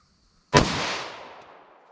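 A single sharp 9mm pistol gunshot from a 5-inch pistol firing Federal Punch ammunition, a close, loud crack with a quickly decaying echo tail, alone with no talk.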